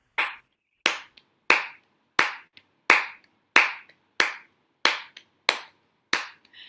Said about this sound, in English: can you show us that clapping pattern?